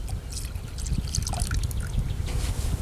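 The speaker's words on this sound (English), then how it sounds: "100 milliliters of milk goes in." Milk poured into a bowl for a dessert, a continuous close trickling and splashing of liquid for about three seconds with no talk.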